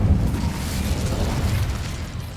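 An Incendio fire spell bursts in Hogwarts Legacy, a loud, deep whooshing blast with a rumbling low roar that gradually fades.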